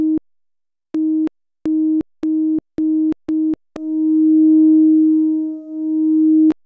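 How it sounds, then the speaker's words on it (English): An analog synthesizer plays through a resonant filter set to maximum resonance, with frequency modulation on the filter. It gives a loud pure tone, first in seven clipped pulses and then as a long steady hum. "let's try a little bit of frequency modulation on the filter then"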